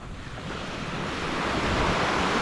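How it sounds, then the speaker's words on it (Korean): Waves break along a beach on Phu Quoc, Vietnam, as a continuous rushing surf. The sound swells slightly louder toward the end, mixed with breezy wind noise and no talking. "박계호 해변. 아, 해변이나 좀 걸어야지."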